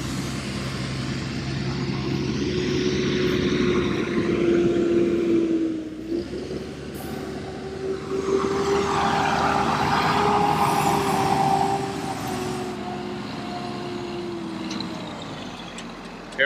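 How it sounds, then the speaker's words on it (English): Truck bringing a 1,000-gallon concrete septic tank approaching up a street, a steady engine drone with shifting gears and a brief hiss midway, moderately near and without talk. "I hear the truck coming up the street."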